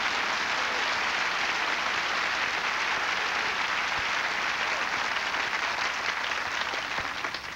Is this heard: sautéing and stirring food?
no